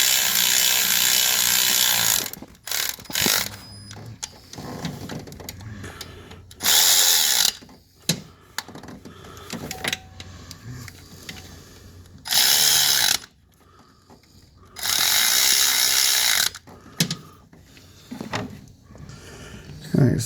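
A power tool whirs in several loud, close bursts as it runs down water pump bolts on a 2004 Toyota Sienna, with quieter ratcheting and handling noises and someone talking between the runs.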